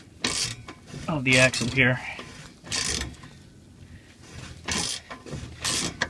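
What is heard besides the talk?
tool pressing out Volvo 240 trailing arm bushing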